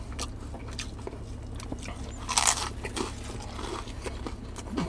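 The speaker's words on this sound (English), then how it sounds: "That crunch is out of this world." Close, crisp crunching and chewing as someone bites into the brick-oven crust of a tomato pie at a New Jersey pizza shop, with a louder crackling bite midway through a steady stretch of mouth noises.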